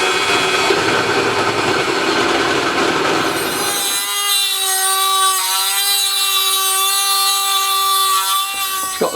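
A loud, steady power tool grinds and whines continuously, its pitch settling into a sustained high drone partway through, as a drill bites into a metal brake drum.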